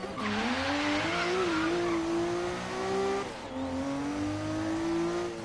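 A twin-turbo 3.3-liter engine in a Subaru Brat revs in the racing game Forza Horizon 3, a loud continuous drone rising and falling in pitch, briefly dipping before climbing again.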